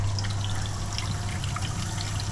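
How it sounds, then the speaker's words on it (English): Hot water runs steadily from a tap on a Baxi gas boiler system, a continuous close hiss and trickle with a low hum underneath and no talking. "So the hot water is running."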